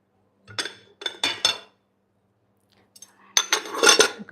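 Dishes being washed by hand, with pots and cutlery clinking together in three short bursts of clatter, a pause, then a longer busier run of knocks and scrapes, close and fairly loud with no talking.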